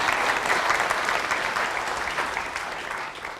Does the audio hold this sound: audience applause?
yes